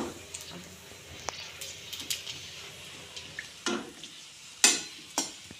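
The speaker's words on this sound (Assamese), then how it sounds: "এই পুস্কাৰ ভাজি আছে" Puchka (fuchka) puffs fry in hot oil with a faint, steady sizzle broken by irregular sharp crackles and pops, a few of them loud, all close up and without talk.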